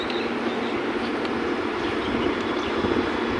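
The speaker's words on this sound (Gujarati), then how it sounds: "અહીંયા થોડી ટ્રેન ઊભી ગઈ છે." A train standing at a station gives off a steady, dense rumbling hiss that stays even in loudness throughout, with no voices over it.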